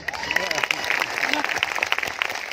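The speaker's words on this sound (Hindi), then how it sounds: "ताली बजाओ ताली बजाओ ताली बजाओ बोल के" Audience clapping at a motivational business seminar in India, a dense patter of hands under a loud voice, with the applause and talk blending throughout.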